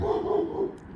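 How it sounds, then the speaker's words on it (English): A dog barks somewhere in the background, faint and distant, under a steady low rumble of an aircraft passing overhead. "there's a dog barking."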